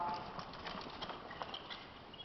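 A horse's hooves walking during a schooling session with simple double reins, a steady clip-clop rhythm of hoofbeats, moderately close and continuous.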